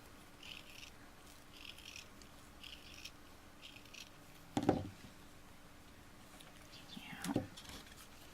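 Small scissors cutting a tiny piece of material for a shabby chic beaded pearl flower center: two soft, crisp snips several seconds apart in a quiet room.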